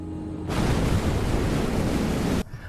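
Ocean waves from a tsunami disaster film, a sudden loud roaring surge of broadband rushing water that starts abruptly, holds steady for about two seconds and cuts off sharply. No voices are heard.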